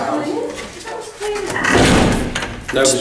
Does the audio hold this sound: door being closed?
yes